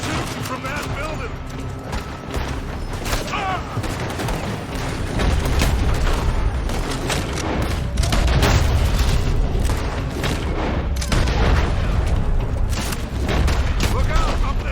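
Gunfire and booming explosions in Red Dead Redemption 2, a dense, continuous barrage of shots and blasts that grows louder partway through, with voices talking over the din.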